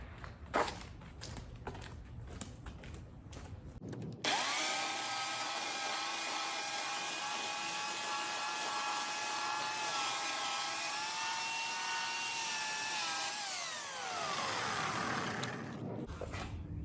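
A chainsaw engine runs loud and steady for about ten seconds, then winds down, with quieter clattering and knocking before and after.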